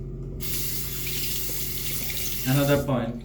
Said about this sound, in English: you just rinse the razor more often